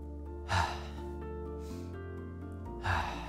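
Steady breathing in and out during a tai chi pump exercise, two louder breath bursts rising over a continuous low background hum, close and calm.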